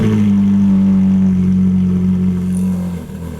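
A 2010 Ferrari 458 Italia engine holds a loud, steady high-revving note close by, then the revs fall away near the end, with no talking.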